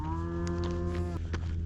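Cattle on an open grassland ridge moo as they follow an alfalfa handout. One long, loud, close moo carries over faint background noise, and a few brief rustles follow it.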